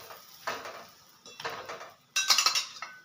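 A crispy cabbage paratha is flipped on a hot pan: three short bursts of metallic clatter and scraping, close by, the last one sharpest and loudest.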